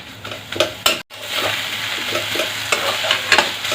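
Red spinach with sesame seeds is fried and turned in a pan over medium flame, a close hiss of sizzling broken by spatula scrapes and clinks, with a brief silent gap near the start.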